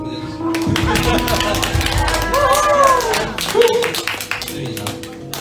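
A youth church congregation applauds in a worship service hall, scattered claps beginning under a speaking voice and continuing beneath talk and ringing feedback tones.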